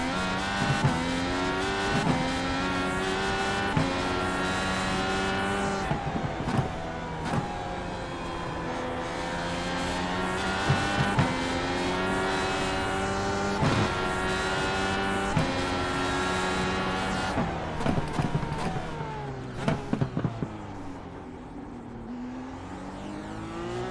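An IndyCar racing engine screams around the Sonoma circuit in the iRacing simulator, rising and falling in pitch through gear changes and corners, loud and continuous without a break.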